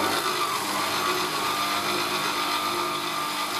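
Milk being mixed into an eggnog mixture gives a steady, even whirring drone that runs unbroken from start to finish, with no voices.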